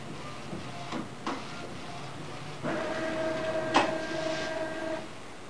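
A4 UV card printer with a built-in heater running a print job: quiet mechanical whirring and clicks, then a steady tonal hum from the moving carriage, close and fairly soft.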